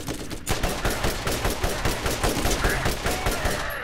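A gun fires in the video game Borderlands, a loud run of rapid, evenly spaced shots that rattles on for several seconds after a short pause.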